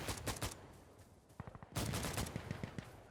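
Bursts of rapid gunfire from an Alpha AK in the video game Insurgency Sandstorm, short clusters of sharp close shots separated by brief pauses, then a longer sustained volley, with no talking.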